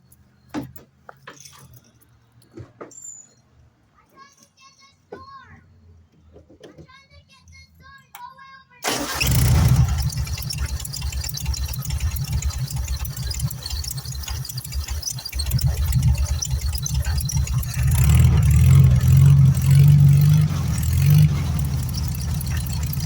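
After a quiet stretch with faint talk, a car engine fitted with a newly installed fuel pressure regulator and gauge starts abruptly and keeps running loudly, revving up further toward the end.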